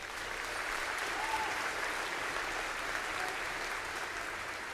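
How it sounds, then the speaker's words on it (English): A school assembly audience applauds a Wind Symphony at a Veterans Day event, an even, fairly soft round of clapping that carries on throughout. "Let's have one more round of applause for the Wind Symphony."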